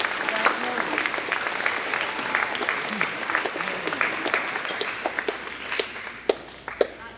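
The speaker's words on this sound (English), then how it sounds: "If we could give them a big round of applause" Church congregation applauding the maintenance crew, a broad patter of clapping with scattered louder individual claps standing out as it fades, and voices murmuring underneath.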